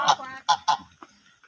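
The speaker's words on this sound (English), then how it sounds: "Ducks. Oh, geese." Geese honk at a spot in Nairobi, Kenya: several loud, nasal honks come close together, then softer, shorter calls trail off, with no talk.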